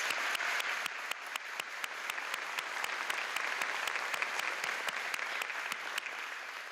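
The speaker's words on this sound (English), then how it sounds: "you're going to get a lot of applause tonight, so let's get it started" Graduation audience applauding graduates at a spring 2025 ceremony, a sustained wash of many hands clapping throughout, steady and fairly distant, with no talk over it.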